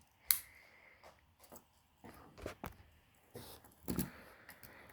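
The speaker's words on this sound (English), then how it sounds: "You've got scissors." Small scissors on a compact multi-tool are opened and snipped by hand, giving several sparse, close, quiet clicks and snaps with pauses between them.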